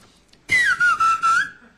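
A person whistling with two fingers on a stage, producing one loud, piercing whistle that slides down and holds a wavering tone for about a second, broken into short pulses.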